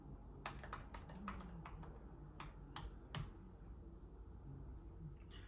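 Quiet typing on a computer keyboard, a scatter of sharp key clicks in short bursts, faint and close over a low background hum, with no talking.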